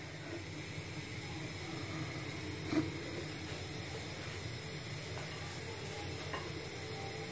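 A spoon swirls through marble cake batter, chocolate and plain layers together, giving a steady soft scraping stir with one brief louder knock partway through, close and alone.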